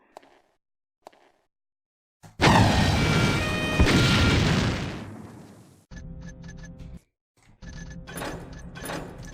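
A ballistic missile shot from a bow in a video game explodes at point blank range: a sudden loud boom with a long crackling blast that decays over a few seconds, followed by further bursts of rumbling debris and smaller pops.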